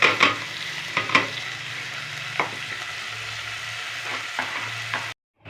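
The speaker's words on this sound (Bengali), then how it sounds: "তেলটা গরম হয়ে গেছে, এবার আমি পেঁয়াজগুলো দেবো।" Sliced onions sizzle as they go into hot oil for a home-style Bangladeshi keema bhuna, a steady frying hiss with sharp stirring clatters near the start, then a quieter simmer before a brief cutoff.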